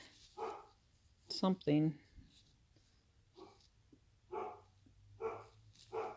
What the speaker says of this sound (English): Uh-oh, my doggy's barking